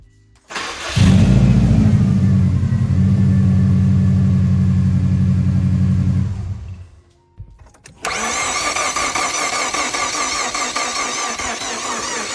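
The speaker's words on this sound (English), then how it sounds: "let me show you how this car sounds when you turn it on" A car engine with low compression cranks and catches, running loudly with a steady drone, cuts out briefly, then restarts and settles into a rough, rattling idle.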